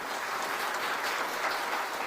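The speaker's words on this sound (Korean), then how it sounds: "자, 인사할 때 크게 박수해 드리겠습니다." Congregation clapping steadily and loudly as new church officers bow at a church dedication and ordination service, dense applause filling the room throughout with no talk.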